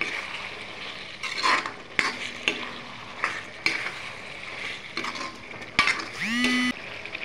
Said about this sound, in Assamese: এতিয়া আকৌ এবাৰ ধুনীয়াকৈ লৰাই লওঁ।